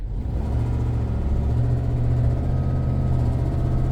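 A 2007 Ford F-150 pickup's engine pulls steadily under acceleration from inside the cab, a loud, continuous low drone with rising engine tone and road noise and no talking.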